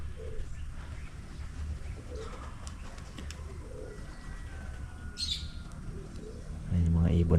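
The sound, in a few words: pigeons cooing in a loft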